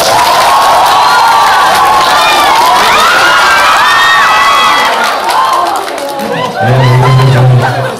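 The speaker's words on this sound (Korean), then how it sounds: "나오실 때 큰 박수 부탁드릴게요" Loud applause and cheering from a cinema audience greeting the director and cast at a stage appearance for the Korean film Gwansang, with excited shouts and whoops over dense clapping that swells and stays steady throughout.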